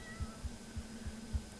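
A cat in the video game Supermarket Together gives five short, soft meows at an even pace in a quiet staff room, with a steady faint hum underneath.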